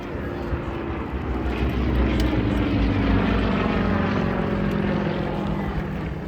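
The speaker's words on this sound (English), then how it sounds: "M14P 9-cylinder air-cooled radial at 360 horsepower, which is a lot of power for an aircraft this size" A propeller aircraft powered by an M14P nine-cylinder air-cooled 360-horsepower radial engine, at an airshow, gives a steady loud droning roar throughout, close by and continuous.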